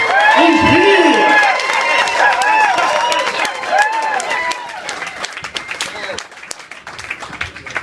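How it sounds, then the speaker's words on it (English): A comedy club crowd at The Roxbury greets a comedian with loud clapping, whistles and whoops, dense at first and then tapering off. "Come on, clapping, whistles, cheers."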